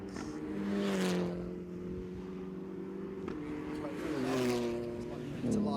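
Saloon race cars, including a Honda Civic and a BMW, racing down the pit straight at Kirkistown circuit, with high whining engines rising and falling as cars shift and pass, under continuous commentary.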